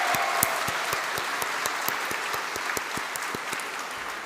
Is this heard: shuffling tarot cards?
no